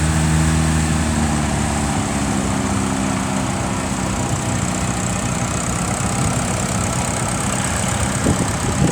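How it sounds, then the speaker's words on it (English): A 1955 Ferguson TEF tractor carrying a mounted plough runs in a steam rally parade, its engine giving a steady, loud chugging idle that holds throughout, with no talk. "Number 14 with me now, a Ferguson TEF of 1955, together with a mounted plough"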